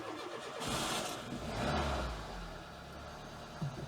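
A Renault Mégane Classic with battery trouble cranks and fires up, then its engine swells in two short revs from a throttle tap before settling back to a steady idle, heard close by.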